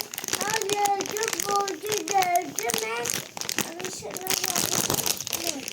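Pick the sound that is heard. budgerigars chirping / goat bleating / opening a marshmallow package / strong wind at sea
opening a marshmallow package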